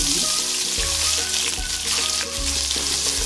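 Onions frying in oil with dried chillies and curry leaves for a ridged gourd dal, a continuous close sizzle with a faint low hum beneath, steady throughout.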